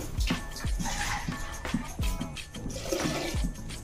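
Water poured into a cooking pot while making horsegram (kolatha) dal in a home kitchen, a splashing, gurgling pour lasting a few seconds, fairly quiet, with no talk over it.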